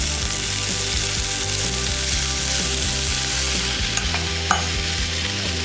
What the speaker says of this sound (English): I'm going to add a little bit of unsalted butter.